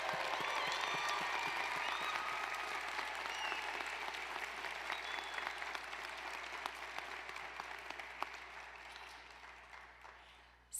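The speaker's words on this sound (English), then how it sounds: "Let's give our graduates one more round of applause." Graduation commencement audience applauding the new doctors, a dense, steady wash of many hands clapping throughout, gradually thinning toward the end.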